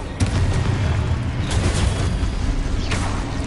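Fiery Confringo spell going off in Hogwarts Legacy: a loud booming burst at the start followed by sustained rumbling, crackling explosion noise and a couple of further pops, with no speech.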